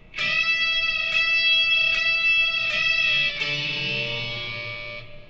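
Distorted electric guitar playing part of a second solo: a few evenly spaced double-stop notes, then a sustained bend that rings out and slowly fades.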